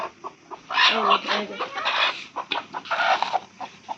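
A hen taken out of her coop clucks in short, broken bursts close by, with a person talking over and between the calls.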